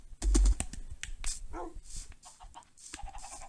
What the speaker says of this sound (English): And there's our doggy.